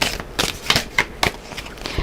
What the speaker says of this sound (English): All right, let me shuffle them this way. It's a big, big deck.